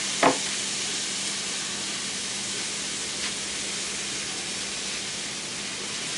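Small pieces of meat for a Philly cheese steak sizzle in a hot pan, a steady broadband frying hiss that starts with a brief sharp crackle as they go in and runs on evenly throughout.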